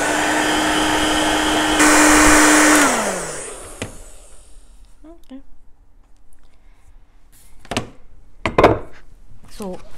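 Hair dryer blowing on an air-dry clay vase, a loud steady whir that shifts briefly higher then winds down and cuts off, leaving light handling knocks and taps.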